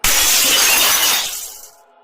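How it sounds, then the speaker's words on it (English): A loud, close glass-shattering crash used as a horror-story sound effect, a dense burst of breaking glass that holds for about a second, then decays into scattered tinkling fragments and silence. "Then came the crash."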